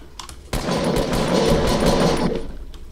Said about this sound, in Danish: Jeg bliver skudt.